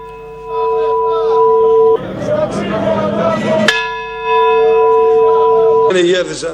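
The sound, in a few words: church bells tolling a death knell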